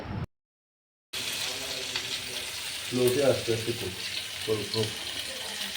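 Chicken fries in a pan in a home kitchen. A steady sizzle plays throughout after a brief cut to silence, with water-like hiss and voices and clatter coming over it midway.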